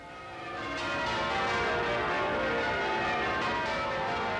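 The bells of St. Paul's Cathedral in London peal in a long birthday celebration, heard as a dense, continuous wash of ringing tones that swells in over the first second and carries on with no voices.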